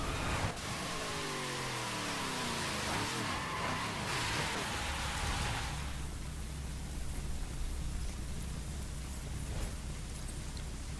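A car in The Crew racing game revs hard on a drag run, its engine pitch climbing through several clear upshifts before settling into a steady roar, loud and close throughout.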